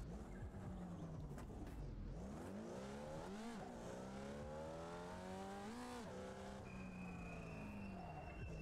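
A race car in the iRacing simulator, engine note rising and falling through gear changes with steady loud revving and brief tire squeal, continuous throughout.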